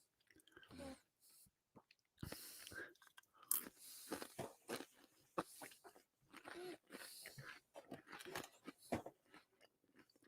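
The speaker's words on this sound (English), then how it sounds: "Can you guys hear me chewing these crackers?" Crackers being crunched and chewed close to the mic during a late-night live stream, with bursts of crisp, irregular bites and chews filling most of the clip, no talk.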